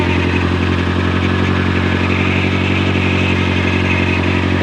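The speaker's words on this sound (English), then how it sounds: "That's the power steering making noise." Running engine bay of a 2018 BMW M6 with power steering noise, a loud, constant mechanical drone with a steady whine and hum, close and unchanging throughout, no voices.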